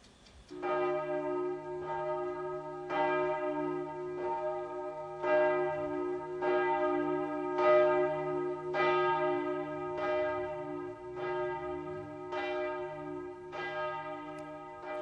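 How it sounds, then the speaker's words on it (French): A village church bell in the parish of Ayer, Anniviers, tolls slowly to announce a death, with evenly spaced resonant strokes about every second and a half, each ringing on with a long hum beneath, heard alone. "la cloche du village, par un rythme et un timbre précis, annonce une mort à la communauté"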